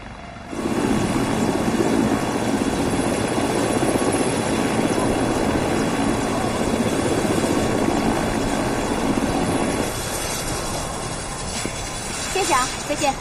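Helicopter of an army aviation unit flying, a steady loud rotor and engine roar that holds for about nine seconds, then drops to a quieter hum as voices begin near the end.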